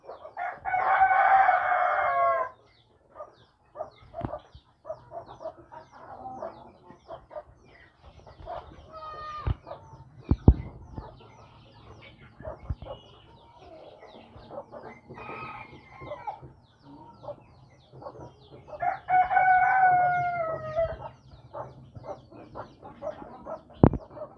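American Brahma chickens crowing and clucking in a pen, with several loud rooster crows near the start, middle and end and scattered hen clucks and farmyard noises between them.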